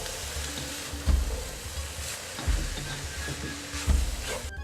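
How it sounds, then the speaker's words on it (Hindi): Shredded cabbage sizzles in a hot pan while being stir-fried for chicken vegetable spaghetti, a steady hiss broken by three soft scraping thumps as the pan is stirred and tossed. "और ये मेरे पास जो बंद गोभी थी, अब इसे ऐड कर रही हूँ। इसको तो बस 2-3 मिनट हम इसको हिलाए जलाएँगे, पलटेंगे"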